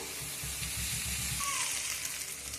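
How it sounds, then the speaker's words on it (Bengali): Onion frying in oil in a pan for a chicken curry, a faint, steady low sizzle with a soft bubbling texture and no speech. "পেঁয়াজটা ততক্ষণ ভাজা হোক"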